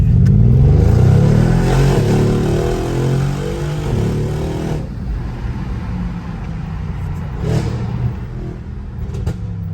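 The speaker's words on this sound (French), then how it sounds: "Qu'est-ce qu'elle gueule, la bagnole. Elle gueule à mort." A car engine revs loudly and close by, a deep, strained roar that holds for several seconds, then drops to a lower running drone with a few brief sharp noises, and no talk.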